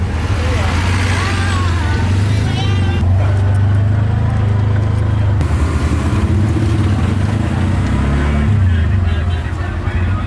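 Tuk-tuk engine in The Gambia, heard from the back seat during a ride, a steady low rumble and drone throughout with rising and falling revs and a few rattles, under occasional talk.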